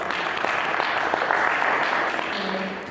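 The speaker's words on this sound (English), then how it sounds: "So can we give them another round of applause?" An audience at a women's marathon press conference gives a sustained round of applause, a dense, even patter of many hands that tapers slightly at the end, with faint voices mixed in.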